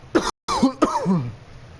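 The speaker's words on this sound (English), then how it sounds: "Just been coughing." A person coughs twice, close and abrupt, with a short pause between the bursts.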